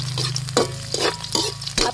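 Onion and garlic sautéing in a pan for Filipino ginisang monggo, a bright sizzle pierced by quick, repeated stirring scrapes, close and lively with no talking.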